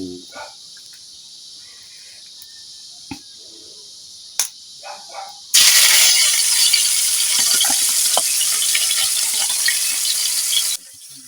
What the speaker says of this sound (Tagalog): prito naman tayo yun mainit naman mantika natin